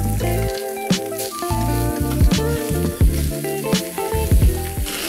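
Teriyaki chicken pieces sizzle steadily in an oiled pan, a continuous close frying hiss with occasional louder pops and crackles, no voices.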